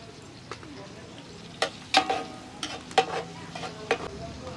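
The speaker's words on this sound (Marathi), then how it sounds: "हा लसूण हा टोमॅटो आता हलवून घेऊया हा गेला कढीपत्ता" Onion, garlic, tomato and curry leaves stirred in hot oil in a village kitchen at Neral near Matheran, a soft frying sizzle punctuated by sharp metallic scrapes and knocks of a ladle against the pan.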